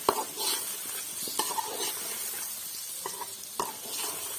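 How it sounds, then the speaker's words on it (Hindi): Spices fry in a pan for an aloo anday curry, a close sizzle broken by repeated scraping strokes of a spoon stirring the mixture. "अब इसको मैं करूँगी फ्राई"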